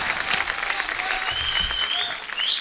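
A studio audience at a comedy talk show breaks into applause as Sanjay Dutt is welcomed, with dense, even clapping throughout and faint music or cheering tones above it.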